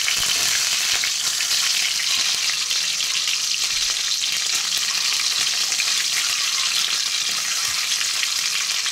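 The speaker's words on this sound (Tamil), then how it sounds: "அதுல முட்டையை போடணும். வெறும் முட்டையை போட்டு கொஞ்சம் ஃப்ரை ஆகிறதுக்காக இப்போ நான் கொஞ்சம் சூடு பண்ணி எடுக்கிறேன்." Eggs fry in hot oil in a kadai, giving a loud, dense and unbroken sizzle that crackles steadily from start to finish with no voices.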